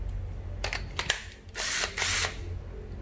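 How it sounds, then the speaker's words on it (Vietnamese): A Hitachi 12V cordless drill with a 10 mm chuck is briefly tested, giving short whirring motor bursts between clicks and handling noise, fairly quiet and close with no talking. "Tiếp tục là một cái máy khoan Hitachi."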